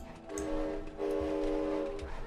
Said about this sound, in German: Der Zug fährt weiter.